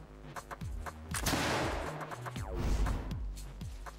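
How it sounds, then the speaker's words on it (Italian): Shotgun firing a salvo of 12 buckshot pellets, heard as loud broadband blasts with rolling echoes and rumble across a few seconds, with no talk over it. "E ora vediamo come va se sparo con 12 pallettoni."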